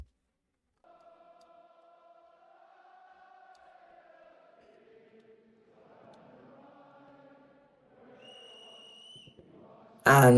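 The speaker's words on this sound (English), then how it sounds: "the ref blew the whistle" A referee's whistle sounds during a BFC vs BFL All Stars game, giving a long wavering tone that is faint and distant, with a brief high blast near the end over soft crowd noise.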